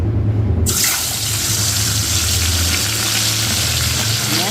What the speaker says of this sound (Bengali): একটা পিস করে ভাজবো